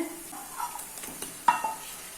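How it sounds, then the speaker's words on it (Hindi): Raw chicken hits a hot pan for restaurant-style garlic chicken and a soft, close sizzle hisses up, broken by a few scraping stirs and one sharper clatter, with no talking. "अभी इसमें चिकन ऐड कर लेना है"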